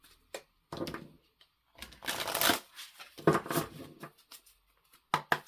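Rapid papery riffles of tarot cards being shuffled in several bursts, close by, with short quiet gaps between them.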